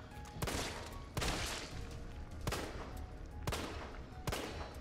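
Gunshots in the Resident Evil 3 video game ring out in a rapid run of about five loud, sharp blasts, each with a short echoing tail, spaced roughly a second apart over steady game ambience.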